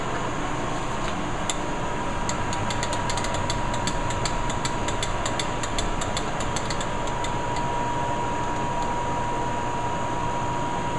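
A metal lathe runs steadily, set up with a parting tool, giving a constant mechanical hum with a faint whine and light ticking clicks throughout.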